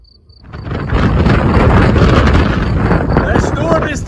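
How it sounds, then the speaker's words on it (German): Strong thunderstorm wind arriving on the Transalpina mountain road buffets the microphone with loud, roaring, gusty rumble that builds within the first second and stays heavy, with a voice briefly heard under it. "Der Sturm ist angekommen."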